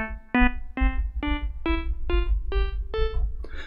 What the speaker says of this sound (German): A-Moll hört sich so an